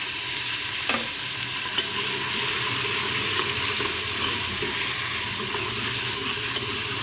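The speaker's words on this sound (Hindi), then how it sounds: "इसमें हम थोड़ा सा डालेंगे पानी, ताकि हमारा लहसुन ना जले और प्याज ना जले" Garlic and onions frying in a pan hiss and sizzle steadily after a little water goes in, a constant close bubbling wash with faint utensil knocks and no talking.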